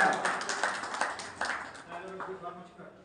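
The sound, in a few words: audience clapping at student felicitation ceremony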